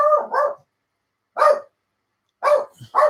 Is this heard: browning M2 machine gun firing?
no